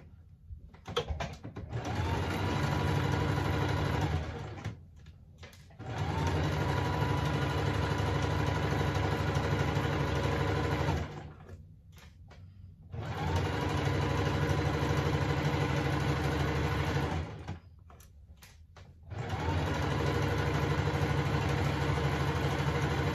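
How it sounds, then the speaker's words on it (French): A sewing machine stitches both side seams of a simple skirt, its motor running in three long, steady bursts separated by short stops, close and alone with no talk. "je vais coudre sur les 2 côtés que j'ai fait"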